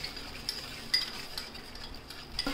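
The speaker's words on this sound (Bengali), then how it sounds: "এরপর ভালো করে আমরা সসটা মিক্স করে নেব।" Sauce stirred into chicken 65 in a pan makes soft, faint scraping and light clinks against a low background sizzle.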